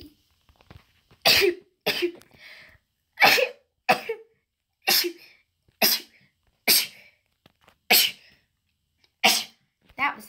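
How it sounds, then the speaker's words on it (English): Sharp, explosive sneezes or sneeze-like bursts repeat about ten times at irregular intervals, each loud and close, separated by near silence with faint breathy sounds in between. "That was an awkward sneeze."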